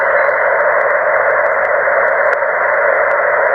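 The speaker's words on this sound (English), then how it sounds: "that is a bit of QRM from here, some kind of local noise" Local interference on an HF amateur radio set during a portable vertical antenna activation gives a steady, loud hiss of broadband static with faint periodic ticks, continuous and unvarying.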